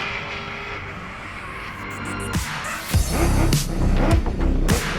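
A drift car's engine revs and thunders on throttle at a drift event in New Zealand, building from a distant drone to loud close roaring bursts as it passes.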